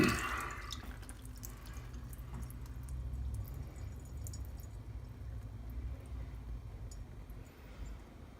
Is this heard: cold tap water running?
yes